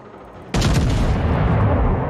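Ship's forward main guns in World of Warships fire together in one sudden, heavy boom, followed by a loud, sustained rumbling roar that fills the rest of the moment.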